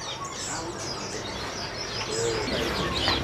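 Many caged cucak combo and other small songbirds fill a bird shop in Cakung, East Jakarta with dense overlapping chirps, tweets and cooing, loud and continuous with no pause.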